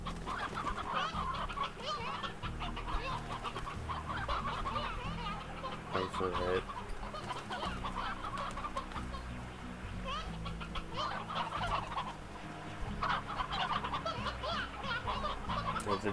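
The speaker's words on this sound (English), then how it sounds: "there are chickens talking" Chickens in the video game Slime Rancher cluck and squawk continuously in a dense, busy flock, while a person talks over the steady game noise throughout.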